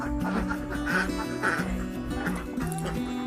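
A flock of laying ducks on an Indonesian duck farm quacks continuously, loud and close, with many overlapping calls forming a dense, busy chorus.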